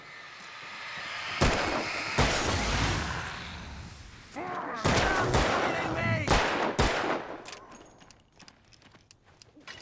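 Gunshots ring out in Alan Wake, several loud sharp cracks spaced irregularly with some quick close pairs, while voices speak between the shots and the firing tapers off toward the end.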